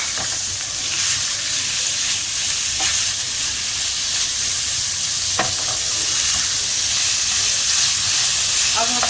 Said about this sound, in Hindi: देखिए मुलायम हो गई है प्याज। अब इसमें हम ये कीमा ऐड कर रहे हैं।